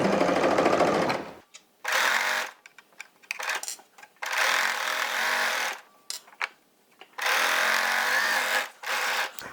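Serger overlocking loose, stretchy sweater knit fabric for a Stretch & Sew 5085 dolman sweater, running in loud bursts of steady rapid whirring separated by short pauses, with no talking.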